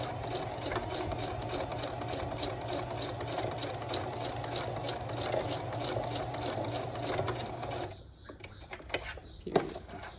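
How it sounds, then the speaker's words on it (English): Sewing machine running a zigzag stitch, sewing hair bundle wefts onto a wig cap, with a steady rapid mechanical whir for about eight seconds, then stopping, followed by a few faint handling clicks. "I'm gonna keep it on my zigzag stitch and I'm gonna go back and forth"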